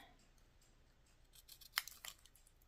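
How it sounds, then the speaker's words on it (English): Fancy-cut decorative scissors snip paper for a junk journal belly band, a few quiet crisp cuts clustered near the end after a hushed start. "I'm going to try my fancy cut scissors"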